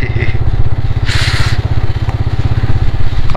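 Motorcycle engine running steadily with a low, even pulsing throb while riding along a rough railway track path in Banjar, with a brief hissing burst partway through and faint clatter over the rough ground.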